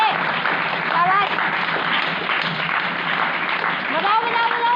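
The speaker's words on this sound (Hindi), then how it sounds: "ताली बजाओ जोर से, शाबाश," Steady, loud clapping from a crowd of students and staff at a school Teacher's Day event, with voices calling out over the applause throughout.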